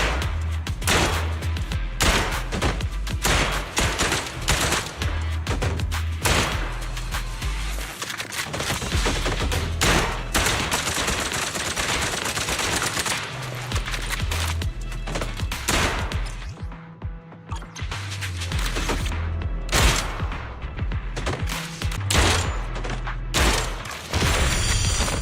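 Rapid gunfire rattles almost nonstop through a video game, dense rapid shots and thudding booms packed together for the whole stretch.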